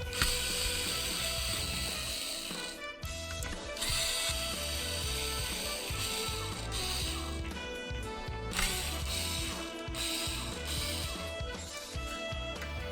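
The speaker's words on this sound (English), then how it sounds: "Remove the 10 chassis screws." A screwdriver unscrews the ten chassis screws on a Nintendo GameCube, producing continuous close ratcheting clicks in bursts with brief pauses between screws.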